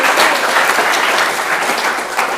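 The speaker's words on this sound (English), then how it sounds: "Big round of applause." Loud, dense applause from the audience at the Nalukai 2023 Hōʻike showcase, a steady wash of many hands clapping close by with no talking over it.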